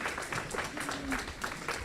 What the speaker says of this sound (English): Please welcome her with an applause.